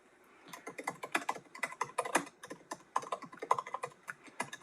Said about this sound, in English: I'm not even typing on the right computer.